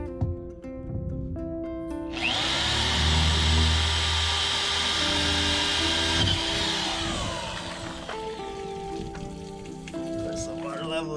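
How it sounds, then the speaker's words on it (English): A power drill whines loudly for several seconds, grinding steadily into a boat's keel before winding down, with faint background noise and tones before and after. "drill a hole in the keel that can be patched later"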